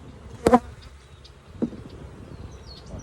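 Honey bees buzz steadily at a hive, a low drone throughout with a couple of louder, closer bursts as bees pass near.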